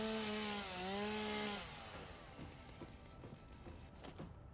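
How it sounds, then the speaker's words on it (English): Chainsaw cutting wood in the video game Satisfactory, a rising and falling motor whine for a second and a half, then a string of short scraping, rasping bursts at moderate level. "chainsaw, man."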